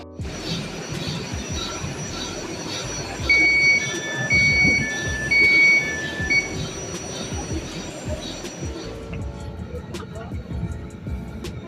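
Glasgow subway train wheels squeal in high, drawn-out metallic tones over the rumble of a moving carriage, the squeals rising and stopping in bursts before the run quietens.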